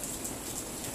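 Steady rain pours down at the Mendolo bus terminal in Wonosobo on an afternoon, a dense, even hiss of falling water with no voices.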